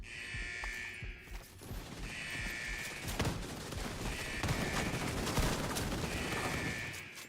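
Sustained automatic gunfire from a gun being emptied in The Division 2 rattles on for several seconds, dense and continuous, with mechanical clatter and brief pauses between bursts.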